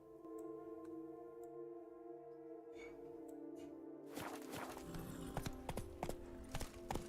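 Galloping horse hooves from The Witcher 3 video game, a steady clip-clop that picks up into a louder, busier run partway through, with in-game ambience underneath.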